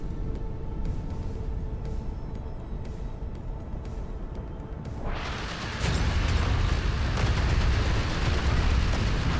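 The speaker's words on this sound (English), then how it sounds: "30mm will kill this" 30mm cannon fire and explosions in the video game Outpost Infinity Siege give a loud, continuous rumbling barrage that swells sharply midway and stays dense and booming to the end.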